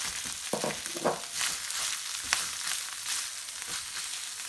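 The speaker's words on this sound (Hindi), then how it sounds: "1-2 मिनट के लिए हमने थोड़ा तेल में ऐसे स्टर फ्राई करना है" Shredded chicken stir-frying in oil with garlic, ginger and cumin, a steady close sizzle with a few scraping stirs of the spoon, no talking.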